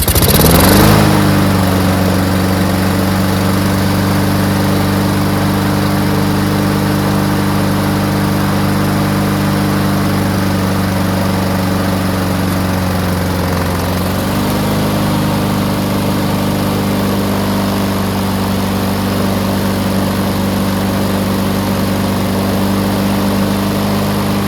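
A Honda lawnmower engine runs steadily at a strong, even idle for the whole stretch, loud and close, with a slight shift in pitch partway through and no talking.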